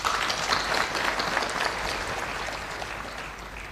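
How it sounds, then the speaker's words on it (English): An audience at a university graduation ceremony in Nairobi applauds for the Chancellor, a dense, sustained wash of clapping from many hands that begins strongly and tapers slightly. "Shall we clap for the Chancellor?"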